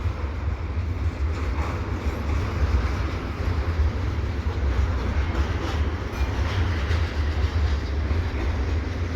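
A CPKC eastbound intermodal freight train rolls past at Dorval in the early evening, a steady loud rumble of wagons with faint wheel clatter, continuous and close, no voices.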